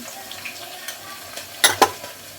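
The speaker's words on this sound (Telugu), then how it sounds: "కొంచెం కరివేపాకు వేస్తున్నా కొంచెం పసుపు వేస్తున్నా" Curry leaves and turmeric hitting hot oil in a pan, a soft continuous sizzle with two sharp spattering bursts near the end, close and without talk.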